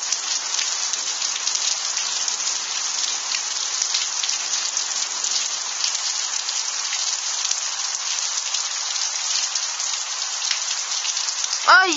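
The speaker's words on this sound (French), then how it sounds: "il est fortement pluvieux cet orage" Heavy thunderstorm downpour in Tour-en-Sologne, a steady loud hiss of rain pounding surfaces throughout, with a brief sharper swell at the very end.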